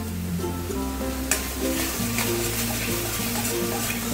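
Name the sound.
stirring sizzling dhoka dalna curry in pan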